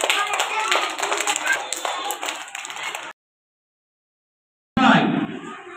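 Nursery children clapping their hands in a class event, several seconds of steady, busy applause-like claps with voices mixed in, then a break of silence before a short loud burst resumes.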